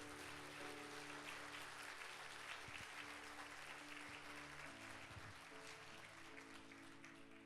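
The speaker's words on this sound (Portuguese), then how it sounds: "Só quem recebe, dê um aplauso ao Senhor" A large church congregation applauds steadily and loudly during a Sunday service, the dense clapping filling the whole stretch, with an organ or keyboard chord sustained underneath.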